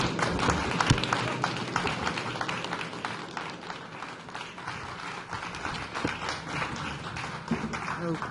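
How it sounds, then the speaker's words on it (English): An audience at a professional society's roundtable event claps for a speaker, a moderate, continuous spatter of hands that holds steady throughout, with some background voices and stage shuffling mixed in. "let's give Dr. Wissler one more round of applause."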